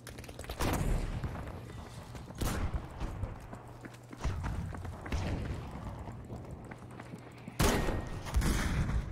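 Gunfire in the video game Battlefield V, several loud, sharp bursts of shots spaced a few seconds apart over a steady low rumble, with no talking.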